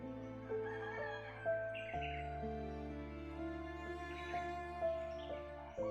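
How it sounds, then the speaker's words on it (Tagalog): Birds sing and chicken-like fowl call outdoors at the foot of a mountain, with several distinct call phrases over a steady low hum, moderately distant and without talk. "Yung mga huni lang ng mga ibon, yung mga hayop, yun lang maririnig ko dito."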